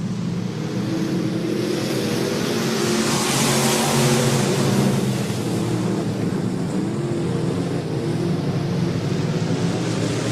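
Midwest Mods race cars accelerate on a dirt speedway, several engines roaring together in a loud, steady, continuous drone that swells slightly midway.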